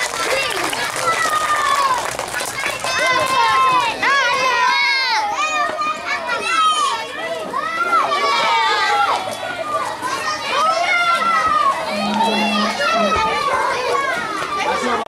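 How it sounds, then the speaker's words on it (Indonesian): At an elementary school theatre performance in Senggigi, Lombok, children cheer and chatter loudly in a lively, continuous crowd roar, with scattered clapping mixed in throughout. "Tepuk tangan."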